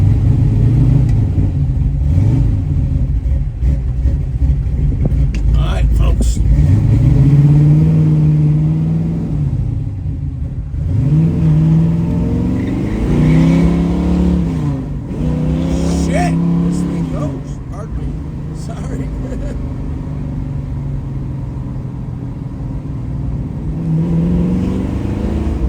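Engine of a 1968 Chevrolet Camaro rumbles steadily from inside the car while driving, with occasional revs and swells, loud and close, as someone talks over it.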